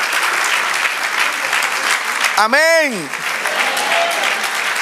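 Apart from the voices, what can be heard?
congregation applause in church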